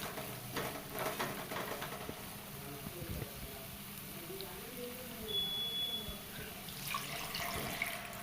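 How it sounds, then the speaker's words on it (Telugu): A cup of water is poured into a simmering paneer butter masala curry in a pan, making a faint, continuous watery splash and sizzle at close range. "ఒక కప్పు వాటికి వాటర్ వేసేద్దాం"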